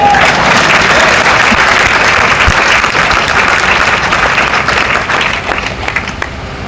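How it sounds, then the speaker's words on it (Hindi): An audience at a live motivational talk claps loudly and continuously, a thick wash of many hands that holds steady and then thins out slightly over the last second. "ताली बजा लीजिए"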